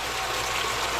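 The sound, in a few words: household water pump running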